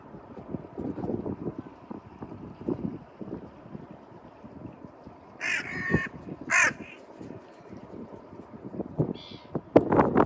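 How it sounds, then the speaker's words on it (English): Crows caw outdoors in a few sharp, loud bursts over steady wind noise and rustling, with a couple of calls close together and another pair a few seconds later. "Birds are around me"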